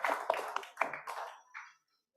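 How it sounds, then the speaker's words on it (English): Applause for a speaker at an event, a few people clapping unevenly and fairly quietly, with distinct hand claps that trail off into silence. "Please give a warm applause to Mr. Surya Pratomo"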